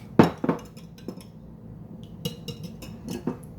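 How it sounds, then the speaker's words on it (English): A whisk clinks and rattles against a bowl in a home kitchen, a couple of sharp knocks followed by a string of quicker, lighter taps, close and unaccompanied by speech. "Then you want to take your whisk. Whisk it around enough."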